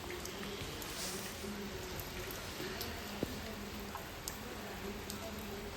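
Morning rain falls in a steady, soft hiss, with an occasional single drip standing out faintly against the even wash.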